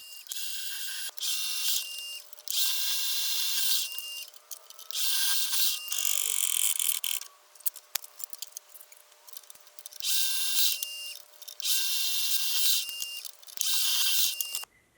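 A power drill bores holes through wood pieces for a jack plane, six or so separate bursts of high whirring, each lasting about a second with short quiet pauses between, close and fairly loud.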